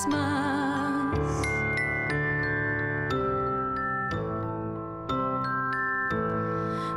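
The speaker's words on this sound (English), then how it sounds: "I hear the sound of bells ringing across town" Bells ring out in a steady sequence of clear, resonant strikes roughly once a second, each tone ringing on and overlapping the next.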